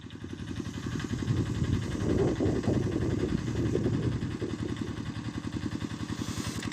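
A small rented tractor ploughing on a Namibian homestead flower farm; a steady, close, rumbling engine with a rapid chugging pulse and mechanical clatter, holding a constant loud drone throughout.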